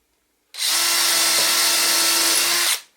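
A power drill bores into scrap wood in one continuous burst of about two seconds, close and loud, with a sudden start and a short wind-down.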